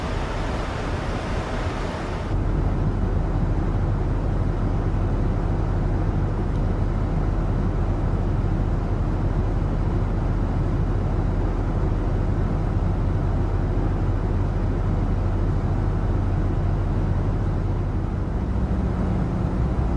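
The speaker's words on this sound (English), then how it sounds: "can we see the engine spool down for descent?" RJ100 jet engine spooling down in a flight simulator, a steady low rumble with a whine that drops away after a couple of seconds, leaving a continuous deep drone at even loudness.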